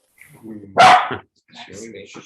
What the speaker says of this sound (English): Don't mind these dogs. They're friendly.